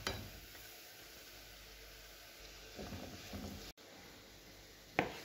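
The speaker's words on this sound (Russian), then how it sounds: "Пока жарится лук," Chopped onion frying in clarified butter for a pilaf with vegetables and chicken breast, a soft steady sizzle and hiss close by with a brief stir or clatter near the end and no talking.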